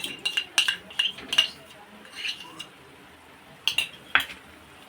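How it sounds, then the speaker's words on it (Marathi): A metal spoon stirs cashew paste into gravy in a pan, with a few sharp clinks and scrapes against the pan in quick bursts, then a pause and two more clinks near the end. "आता ही पण परतून घ्यायची आहे या ग्रेव्हीमध्ये"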